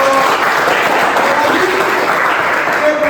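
A classroom group at a school anti-bullying guidance session claps in a dense, steady burst of applause that carries evenly throughout and stays loud and close.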